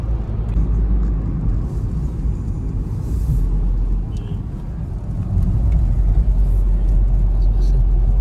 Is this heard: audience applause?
no